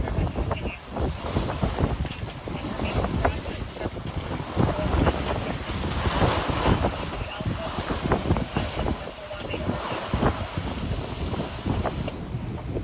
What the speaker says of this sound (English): We got the wind on the beam, but we're running with the seas.